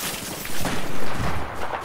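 MG4 machine gun fire in a Battlefield 4 match, loud dense bursts with booming impacts and cracking noise, swelling in a few quick waves over a busy battle din, no talk.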